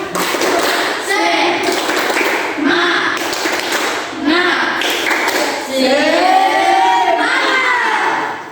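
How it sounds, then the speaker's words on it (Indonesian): A group of standing schoolchildren performs a rhythmic spirit clap in a classroom, bursts of sharp claps in time with shouted chanting voices, loud and close, repeating in several phrases. "Tepuk semangat."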